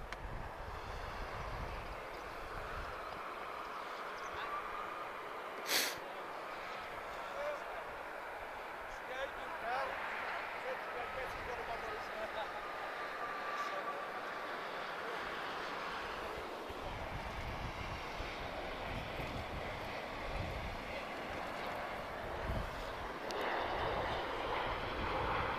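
An airliner at Lisbon Airport produces a broad, steady jet roar that lingers in the distance throughout, with a few brief louder swells. A person talks at times over the engine noise.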